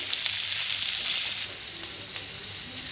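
Capsicum and carrot slices sauté over a full flame, a steady close sizzle with crackling spatter running throughout and a few brief stirring clicks, no voices.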